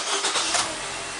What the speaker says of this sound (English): let's start it up. Make sure she's idling good.